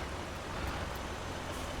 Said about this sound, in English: Don't like working in the rain.